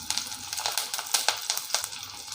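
Garlic, green chili, shallots and curry leaves sauté in a pan for a Kerala-style fish curry, giving a steady close sizzle broken by quick crackling bursts about every quarter second.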